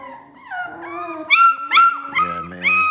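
Several American pit bull terrier puppies at a kennel whimper and yip in rising, wavering cries, close and fairly loud, with brief overlapping yelps and no talking.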